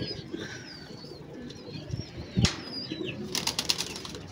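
Pigeons flapping their wings during a pigeon catch, with a loud burst of wingbeats midway and a cluster of fluttering flaps near the end, over faint background bird calls and outdoor noise.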